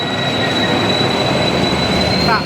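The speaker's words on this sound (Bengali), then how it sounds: "এই যে আমাদের ট্রেন চলে আসলো" Train pulling into a station, a steady loud rumble of rolling cars with a high sustained wheel squeal and a brief screech near the end.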